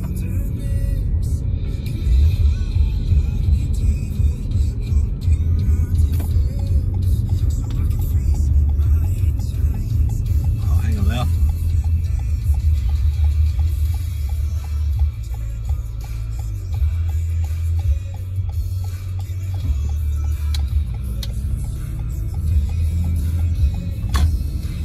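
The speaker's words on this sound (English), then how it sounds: "Traffic over here, a lot" Road traffic near a cul-de-sac off Montello Way in Lakewood Ranch, Florida: a steady low rumble of cars passing, swelling and fading over the span, with a voice speaking briefly.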